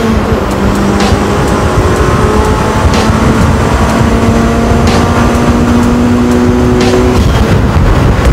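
A stripped-out car with only two seats left inside drones loudly and steadily up close, its engine pitch holding and stepping through gear changes with a rough, continuous roar.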